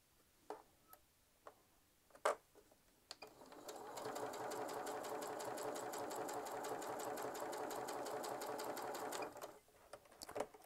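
A sewing machine with a quarter-inch foot stitches a quilt block in one steady, fairly quiet run of rapid ticking, set between a few soft clicks and handling sounds before and after.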